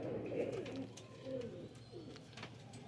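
Soft, low pigeon cooing repeats in gentle rolling phrases, fairly close, over a steady background hum.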